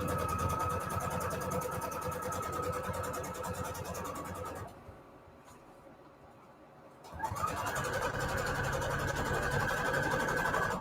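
A sewing machine stitches through a scrap-paper mini folder booklet with a steady, close mechanical whir that stops for a couple of seconds mid-run and then starts again.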